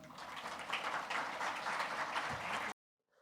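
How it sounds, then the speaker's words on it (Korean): Warm audience applause welcoming a speaker at a corporate seminar on AI, a dense, even wash of many hands clapping at moderate distance before it cuts off abruptly into silence. "뜨거운 박수로 앞으로 모시겠습니다."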